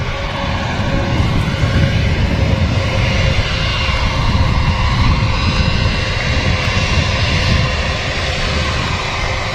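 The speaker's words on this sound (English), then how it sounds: "Hopefully this A321 is going to get off right in front of us" An Airbus A321 jet taxiing at Manchester Airport gives off a steady, loud engine roar and whine, close by and unbroken throughout.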